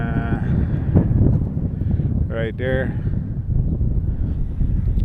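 Wind gusts buffet the microphone outdoors by a filled pit and overflow pipe on a dairy farm, a steady low roar throughout with a person speaking briefly in the middle.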